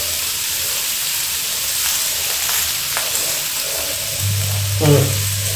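Marinated beef entrecote sears in a cast iron pan with a loud, continuous sizzle and crackle, broken near the end by a brief scrape or clank, with no talk.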